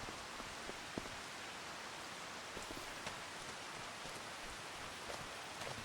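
Steady rainfall in the farming game Farming Simulator 25, a soft continuous hiss of rain with faint scattered drops, fairly quiet and unbroken, no voices.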